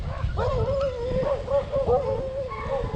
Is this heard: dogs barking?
yes